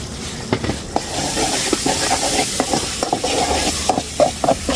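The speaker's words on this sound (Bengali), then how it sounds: "আদা বাটা রসুন বাটা দিয়ে সুন্দর করে একটু নেড়ে ছেড়ে নিচ্ছি" Ginger and garlic paste is stirred in a hot frying pan, making a loud, close sizzle with repeated rhythmic scrapes and knocks of the spoon against the pan, and no talking.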